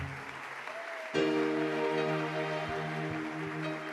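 Church congregation applauding together, a sustained burst of clapping that begins abruptly about a second in and continues steadily, dense and fairly loud, over a faint sustained tonal backdrop.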